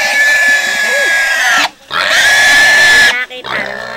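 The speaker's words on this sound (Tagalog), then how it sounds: "Yun, ang baboy." A pig in rural Camarines Sur, Bicol, lets out loud, close, high-pitched squealing oinks in two long bursts separated by a short pause, with a brief softer cry at the end and faint voices in the background.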